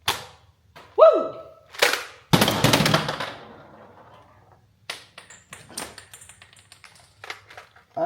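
A Gunsmoke toy blaster goes off with a sharp crack followed by a short rattling burst, surrounded by separate mechanical clicks, pings and handling taps, all close and with no one speaking.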